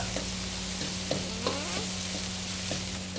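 Eel stir-frying in a pan at a street food stall in Kelantan: steady sizzling with scraping stir strokes and clinks of a utensil, close and continuous with no talking.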